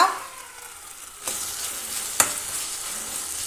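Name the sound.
sautéing onion and chopped tomato in a pan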